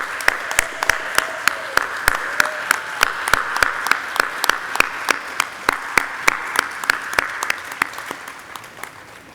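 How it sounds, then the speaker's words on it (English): A small audience gives sparse, steady rounds of clapping for nursing honor society inductees at a ceremony, individual claps distinct and evenly paced, fading slightly toward the end with no talking. "I'd like to have everybody have another round of applause for our inductees."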